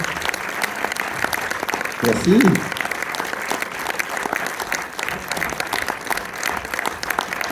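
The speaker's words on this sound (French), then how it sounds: "qu'on applaudit aussi très très fort" A cinema audience applauds at a film premiere of L'école est à nous in Orléans, a steady, dense wash of clapping throughout, with a man briefly thanking the crowd over it.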